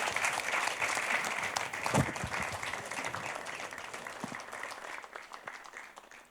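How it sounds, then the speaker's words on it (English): Sustained audience applause fills the hall at the FIFA Futsal World Cup Lithuania 2020 emblem launch event, a dense steady wash of clapping that holds loud and then tapers off slightly toward the end. "Let's give a big round of applause."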